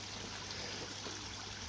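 A garden pond waterfall running over pond liner, a soft steady trickle and splash of water with a low hum beneath, continuous and fairly quiet with no talk.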